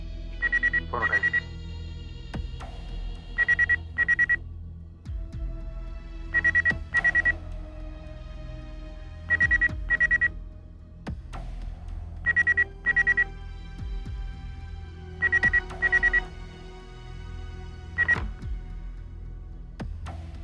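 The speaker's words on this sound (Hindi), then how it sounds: "फोन उठाइए।" A telephone rings repeatedly in a tense scene from the Hindi crime drama CID, giving short bright double-pulse rings about every three seconds over a low steady background tone.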